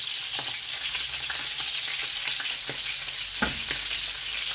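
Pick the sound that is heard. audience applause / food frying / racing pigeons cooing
food frying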